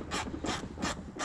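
A headlight bulb fitting on a 2000s Audi A4 Avant 1.8T Quattro B6 is twisted tight, giving four evenly spaced, close rasping clicks like a ratchet turning.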